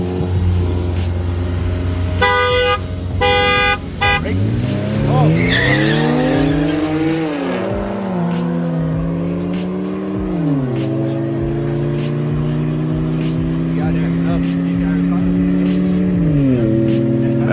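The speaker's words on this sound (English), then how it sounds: "The E90 versus the GTI." A BMW E90 328i races a MK6 GTI. A quick run of horn toots comes first, then loud engine roars climb and drop in pitch through the gear changes, with tire squeal.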